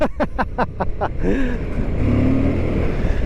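Suzuki V-Strom 1050DE adventure motorcycle (2023) in gravel mode with the rear sliding out on gravel, engine roaring steadily and close after a few sharp opening bursts, with a crunching rumble underneath.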